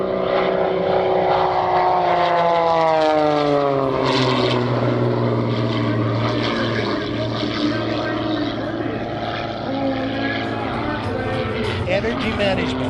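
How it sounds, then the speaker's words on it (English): A propeller aerobatic airplane at the NAS Key West Airshow 2025 drones loudly with a continuous engine roar that sweeps up and down in pitch as it slows almost to a hover, while an announcer talks over it. "Drag slows the airplane down almost to a hover now as he fights with the horsepower to keep it flying"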